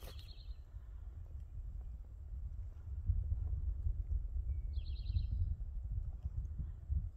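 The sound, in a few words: birds singing in the morning on the Appalachian Trail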